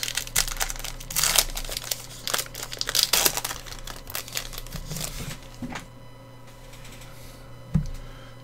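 Topps baseball card pack wrapper torn open by hand: close, busy crinkling and tearing of foil plastic in dense bursts over the first several seconds, easing to softer rustling, with one brief crackle near the end.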